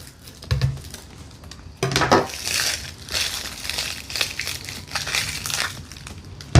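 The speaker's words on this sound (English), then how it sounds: "Just gonna do a rough chop" A knife rough-chops a yellow onion on a cutting board with a string of close, crisp crunching cuts in an uneven rhythm.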